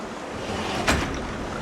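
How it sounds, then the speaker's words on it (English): Steady rushing water from a fountain in the video game Honkai: Star Rail, a continuous even wash with one brief louder splash around the middle. "I think I hear the sound of water."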